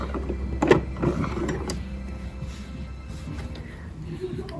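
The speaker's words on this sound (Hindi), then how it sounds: "अब मैं इनको इस तरह सिलाई लगा लूँगी।" Sewing machine stitching long fabric strips for a trouser design, a steady low mechanical whirr running throughout with brief louder bursts near the start.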